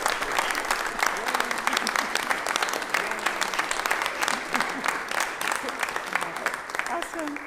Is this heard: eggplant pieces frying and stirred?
no